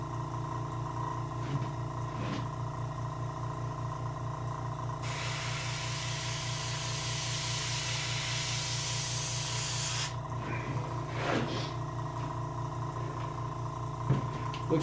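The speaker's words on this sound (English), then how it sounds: "Gotta have good control with your airbrush." An airbrush sprays paint onto a carved king salmon, giving a steady close hiss that lasts about five seconds over a low background hum, with no talk.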